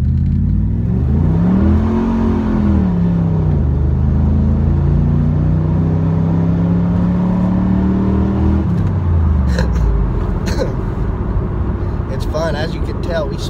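A 1997 Chevrolet Camaro Z/28 with an LT1 V8 and automatic transmission accelerating on a road, a loud close engine drone rising and dipping in pitch through a long pull, then easing off, with someone talking over it near the end.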